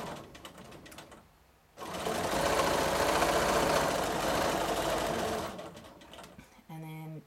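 A sewing machine stitches free-motion quilted feathers in a steady, fast mechanical whir lasting several seconds, with quieter moments before and after and a brief voice near the end.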